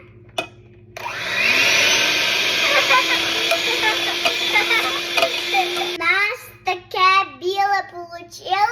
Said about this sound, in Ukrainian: А тепер будемо міксером робити